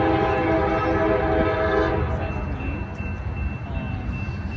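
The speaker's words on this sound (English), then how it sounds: "we got a train coming right through Lockland right now, headed towards Cincinnati" A CSX freight train runs southbound through Lockland toward Cincinnati, its horn blaring loud and steady for about two seconds before fading into the rumbling roll of the cars passing close by.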